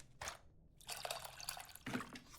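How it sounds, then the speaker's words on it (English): Tamarind is mixed with water in a bowl in the cooking game Venba, giving a few short wet squishing and dripping bursts separated by quiet gaps, close and soft. "It looks like I have to mix the tamarind with the water to extract its essence multiple times."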